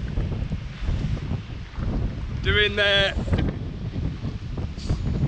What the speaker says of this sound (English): the weather is terrible and it's very windy and it's raining